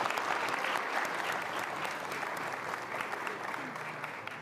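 Studio audience applauding a motorcycle group from East Nusa Tenggara on an Indonesian talk show, a steady dense wash of clapping that holds at even loudness throughout.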